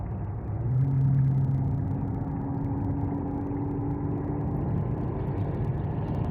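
A car cruises along a highway posted at 70 miles an hour, its engine and tyre rumble a steady, close drone with a brief swell early on, heard alone without talk.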